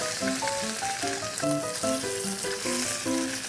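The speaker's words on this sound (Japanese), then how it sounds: "最後にね、ステーキ焼いて終わりましょう" Steak sizzles steadily in a small frying pan, with a constant close crackle and hiss running throughout while light melodic music plays over it.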